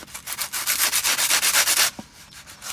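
Lupin seeds rubbed back and forth in folded sandpaper make a fast, steady rasping scratch, about a dozen even strokes close up, then stopping abruptly.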